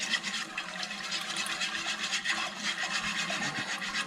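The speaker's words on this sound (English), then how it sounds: "And just stir the shit out of it." Homemade mac and cheese stirred vigorously in a pot, a continuous wet scraping and sloshing with a quick rhythmic churn, close and steady throughout.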